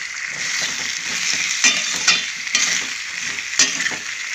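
Onion paste curry stirred in a hot pan: a steady close sizzle with rhythmic scraping strokes of a spoon roughly every half second and a few sharper clacks against the pan.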